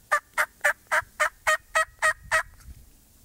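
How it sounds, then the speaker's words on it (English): A wild turkey gobbles in a fast, evenly spaced series of about nine loud calls, then stops and leaves quiet outdoor background. "and we just like to hear them gobble"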